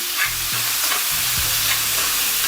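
Cheesesteak ingredients fry in oil in a pan with a constant sizzle, broken by a few low scraping stirs near the start; no one speaks.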